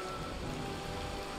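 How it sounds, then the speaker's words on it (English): Steady rain pours in the Minecraft Demon Slayer mod video game, a dense, even hiss of falling drops that fills the brief moment without any talk. "this rain won't hurt no one."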